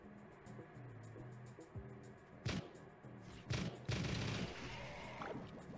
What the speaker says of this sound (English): This is that machine gun I was talking about before.